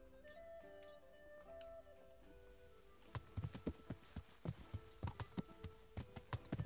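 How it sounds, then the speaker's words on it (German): Horse hooves clip-clop in a steady rhythmic gallop in Kingdom Come: Deliverance, starting after a few seconds of orchestral music and continuing as loud, close, evenly spaced thuds over the score. "Wir reiten jetzt nach D erstmal."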